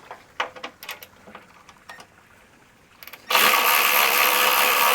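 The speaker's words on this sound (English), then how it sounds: "I'm using a Milwaukee electric ratchet" A Milwaukee electric ratchet loosens a bolt on a car, starting after some light clicks and handling noise with a sudden loud, steady high-pitched buzzing whir that runs nonstop to the end.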